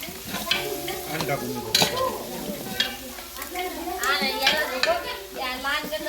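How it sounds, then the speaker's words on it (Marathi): Onion and garlic paste frying in a pan over an outdoor cooking fire, close sizzle with frequent stirring scrapes and pan knocks, faint voices and children audible in the background. "लसणाची पेस्ट टाकत आहे याच्यामध्ये. आता कांदा आपला लाल झालेला आहे."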